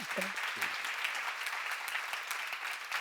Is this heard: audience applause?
yes